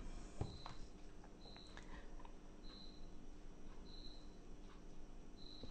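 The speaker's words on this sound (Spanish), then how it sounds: "Mejor los grillos que el ruido de tránsito." Crickets chirp at night in brief, evenly spaced trills against a steady, low outdoor hum, moderately faint and with no talking.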